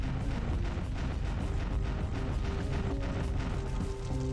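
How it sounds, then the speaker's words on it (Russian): Repeated heavy crashes and booms as a cannon is destroyed in the video game Space Rangers planetary battles, a dense continuous barrage of impacts and explosions with a low rumble underneath, loud and close. "Пойдем ломать вот эту вот легкую пушку."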